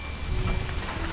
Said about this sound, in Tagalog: Bubuhos yung ulan.